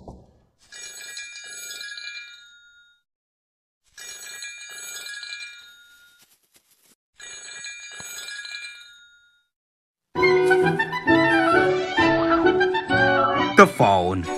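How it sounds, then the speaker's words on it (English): A phone rings in three separate trilling bursts with pauses between, then music with voices takes over. "The phone is ringing."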